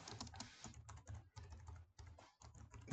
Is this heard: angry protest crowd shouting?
no